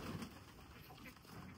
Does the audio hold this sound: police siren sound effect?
no